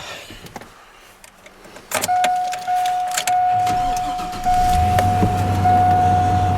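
An old vehicle's engine cranks and fires, starting from quiet clicks and a whirring starter, then settling into a steady low idle that runs close and fairly loud.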